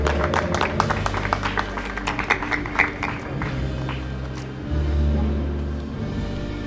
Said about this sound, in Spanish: un aplauso para Maritza